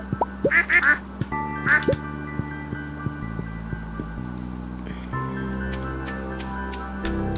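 Farm ducks quack in a quick cluster of loud, nasal calls near the start, then one more, over a steady mechanical hum that carries on alone afterward.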